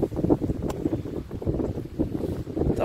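Strong wind buffeting a small fishing boat on the Tagus River on a rough, cloudy day, a steady loud rumble of wind noise with water and hull sounds throughout, no talking.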